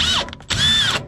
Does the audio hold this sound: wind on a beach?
no